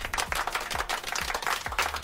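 A small, rowdy crowd claps during a Brownlow-style vote count, a brisk, uneven patter of hands with a few sharper accented claps, fairly quiet and without speech.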